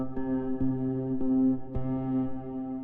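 A sampler melody built from randomized playhead slices of a clip plays sustained, slightly varying tones with soft attacks at each new note, effected with reverb and chorus-like shimmer, steady and alone.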